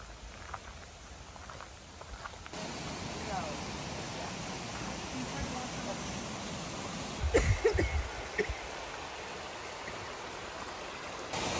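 Twin Falls waterfall at mile marker 2 on the Road to Hāna, Maui, heard as steady rushing water under a continuous wash, with a few louder splashes or bumps midway.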